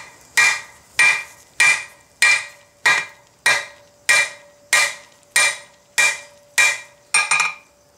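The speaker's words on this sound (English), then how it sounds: "the way I learned to draw out was with my ball peen hammer, again, over the edge of the anvil" A ball peen hammer strikes hot metal over the edge of an anvil while drawing out at a blacksmith's forge: about a dozen evenly spaced, bright ringing blows, close and loud with short decays.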